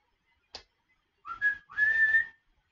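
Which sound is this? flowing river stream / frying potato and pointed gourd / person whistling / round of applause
person whistling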